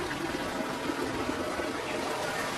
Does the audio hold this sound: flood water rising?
yes